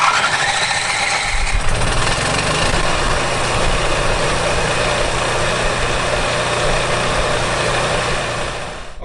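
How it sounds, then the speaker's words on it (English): Onan RV generator warming up, running with a loud, steady, continuous engine drone that holds for the whole stretch without a break. "run the generator for 5 minutes to warm it up so the oil flows good"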